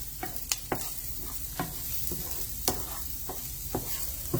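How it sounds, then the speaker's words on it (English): Okra and onions stir fried in a pan with lemon juice and salt, a steady dense sizzle punctuated by regular sharp scrapes of a spatula against the pan, close and continuous. "I'll put in the 2 teaspoons of lemon juice and half a teaspoon of salt and stir fry it"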